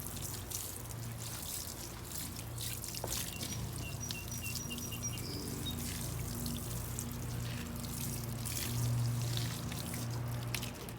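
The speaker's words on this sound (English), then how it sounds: "The same solution I have in my gallon, I'm going to water the base of my fruit trees" Epsom salt solution is poured from a gallon jug onto the base of fruit trees in a garden, making a steady, unbroken splashing pour for about eleven seconds, with faint birdsong in the background.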